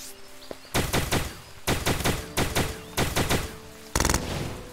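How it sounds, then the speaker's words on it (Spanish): Shots from a weapon in Starbound, fired in short rapid bursts of four or five cracks separated by brief pauses, crisp and loud over a faint background hum. "Ese disparo no tiene colisión contra enemigos"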